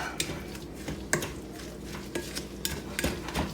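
Turkey meatloaf mix of turkey breast, breadcrumbs, Italian seasoning, green peppers and onions is stirred in a bowl, with irregular utensil clinks and soft scraping up close and no talking.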